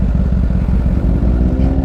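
Motorcycles including Ducati, BMW, Husqvarna and Fireblade machines pull out from a bikers' meet in Aldershot, UK, with a steady, close engine rumble and a rising rev near the end.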